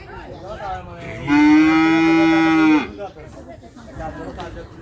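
A single loud, drawn-out moo from a Friesian calf lasting over a second, with voices chattering before and after it at a cattle sale in Chuadanga.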